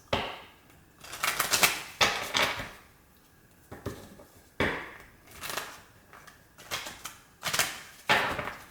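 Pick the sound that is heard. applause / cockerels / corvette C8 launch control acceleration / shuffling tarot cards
shuffling tarot cards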